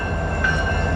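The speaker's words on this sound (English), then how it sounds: "we have another train that's coming east here" A freight train rolls through Hobson Yard in Lincoln, Nebraska, giving a loud, close, continuous low rumble of rail cars with a faint thin squeal partway through.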